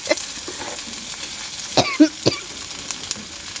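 Pancit canton with garlic, onion and vegetables is stirred in a pan, giving a quiet sizzle with a few sharp scrapes and clinks of a utensil near the middle, and no talking.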